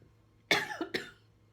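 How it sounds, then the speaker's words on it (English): A single sharp cough, close and fairly loud, breaks into two quick bursts over a faint low background hum. "I have a cough or something today."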